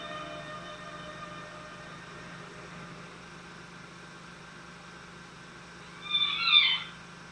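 A short burst of meows from six kittens in a basket near the end, following several seconds of low steady rumble and faint background noise, from a 1973 16mm film.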